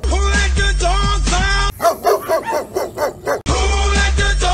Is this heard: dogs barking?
yes